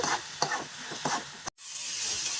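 Green chilies sizzle in a pan of fried rice, a frying hiss broken by several rhythmic stirring scrapes, then a brief cut before the steady sizzle resumes, with no voices.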